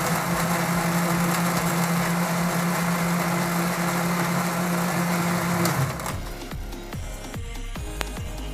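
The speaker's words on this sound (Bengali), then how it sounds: "হাফ টেবিল স্পুন কফি দেওয়ার পর আমাকে এটা এখন সম্পূর্ণ ব্লেন্ড করতে হবে।" A kitchen blender whirs steadily as it blends a homemade protein shake with coffee, then cuts off about two-thirds through, leaving quieter clinks and handling noises.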